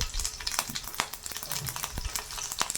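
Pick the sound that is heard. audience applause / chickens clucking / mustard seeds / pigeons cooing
mustard seeds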